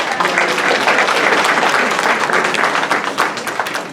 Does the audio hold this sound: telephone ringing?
no